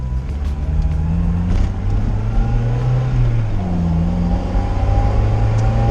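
A Mazda Miata, rebuilt after a wreck and still cold, runs on its first road test, its engine droning steadily with rising and falling revs under a constant low rumble from inside the car.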